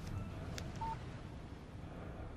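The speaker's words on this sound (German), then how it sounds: "Eine SMS von Barry." A short electronic chime of a phone text message alert in the video game Alan Wake, a single faint beep over quiet background hiss.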